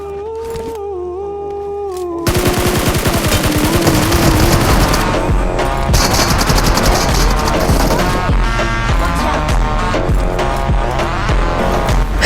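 Gunfire in the BGMI mobile battle-royale game: dense, loud bursts of shots and impacts fill the scene after a quiet opening, with continuous chaotic game action layered throughout.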